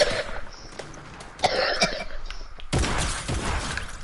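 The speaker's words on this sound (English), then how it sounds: "I'm coughing like hardcore" Harsh coughing bursts come up close, a couple of sharp hacking fits separated by brief pauses, followed by a rougher, noisier stretch.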